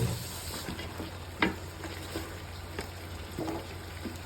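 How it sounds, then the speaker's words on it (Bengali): Beef for a Chittagong-style Mezbani curry frying in oil with bones and some fat, a steady close sizzle under occasional scraping stirs of the spatula in the pot. "মাংসটা নাড়া দিতে হবে"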